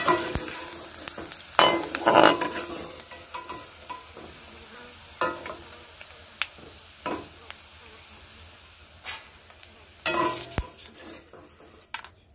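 Leftover cooked rice fries in hot oil with a steady sizzle, broken by sharp clanks and scrapes of a utensil against the pan. The stirring and clatter come in irregular bursts close by.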